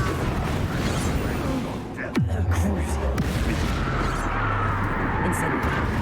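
A Bombarda spell blast in Hogwarts Legacy lands as one deep booming explosion partway through and then rumbles away, with a voice talking over the game sounds.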